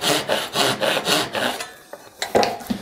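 Hand saw cutting wood for a dovetail: rapid, even rasping strokes, close and fairly loud, then a pause with a few light knocks and scrapes.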